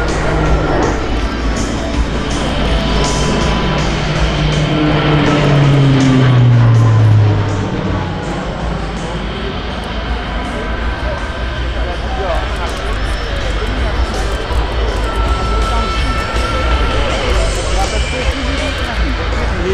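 Alenia C-27J Spartan military transport plane roaring through a tight turn over an air show at Volkel Airbase, its engine drone swelling loud and then falling away under crowd chatter and a commentator talking.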